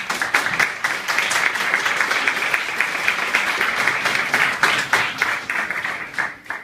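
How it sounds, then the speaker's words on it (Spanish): Steady applause from an audience at a university legal-culture gathering, dense clapping sustained throughout at an even level before tapering slightly near the end. "para quien pido un fuerte aplauso"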